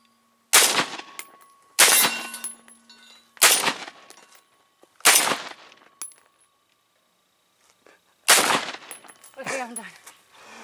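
Five sharp rifle shots from a SCAR 16S fired outdoors on a hot day, spaced about a second and a half apart, each a loud crack with a short ringing tail, followed by faint voices and a distant shot.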